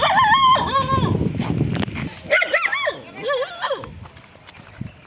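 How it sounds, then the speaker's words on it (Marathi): A dog barks and yips outdoors, several sharp calls in quick succession with whimpering tones, heard fairly close. "एक कालचंच कुत्रं इथं भुंकत आहे बघा"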